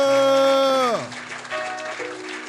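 Applause and cheering fill a church service as a pastor couple is acclaimed, rising after a loud sustained musical chord slides downward and fades; the clapping stays as a dense, steady wash.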